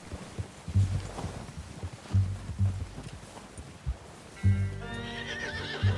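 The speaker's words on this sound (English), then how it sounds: "É o cavalo do Dutch, não?" A horse in Red Dead Redemption 2 snorts and thuds its hooves in a heavy, uneven rhythm, then lets out a loud, drawn-out whinny near the end, all close and clear with no talk.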